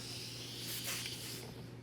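An airbrush sprays primer onto a quarter-scale custom figure, a soft continuous hiss of air that swells briefly near the middle.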